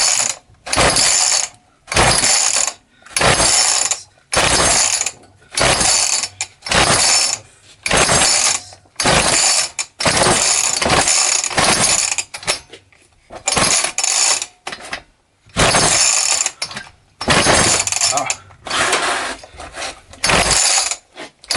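A dead Homelite chainsaw being pull-started repeatedly without firing, giving about fifteen loud, close ratcheting rasps of the recoil cord, each lasting about a second and separated by short pauses.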